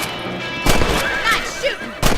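A rifle fires in Red Dead Redemption while hunting rabbits, with sharp broadband bangs near 0.7 s and again around 2 s, plus a softer thud in between, set over steady game ambience.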